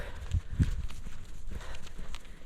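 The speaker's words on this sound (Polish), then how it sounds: "Brudny koń szczęśliwy koń" A muddy mare walks along, her hooves landing in a few soft, uneven thuds and clops close by, faint and unhurried with quiet background noise.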